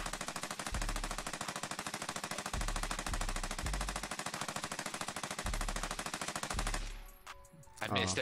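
Rapid automatic gunfire from the video game Warzone, sustained bursts of loud, close shots with a few brief gaps, cutting off near the end into quieter game sounds.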